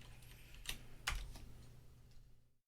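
A failing computer keyboard being typed on, giving a few sharp, close clicks over a low steady background hum before the sound cuts to silence.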